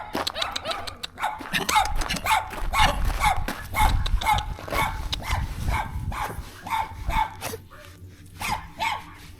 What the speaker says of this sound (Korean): 강아지다